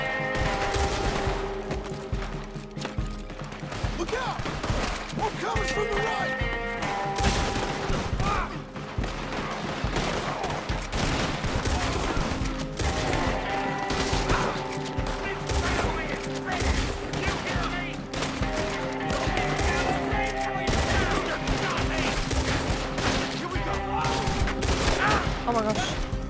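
Gunfire in the video game Red Dead Redemption 2: dense, continuous volleys of loud shots and rapid bursts over game music and effects, with occasional talking mixed in.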